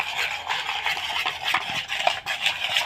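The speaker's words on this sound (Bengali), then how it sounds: "দিয়ে এখন আমি খুব ভালো করে মিশিয়ে নেব।" A spoon stirs semolina batter with baking powder in a bowl, making a run of soft, close scraping and sloshing strokes in an uneven rhythm, with no talk over it.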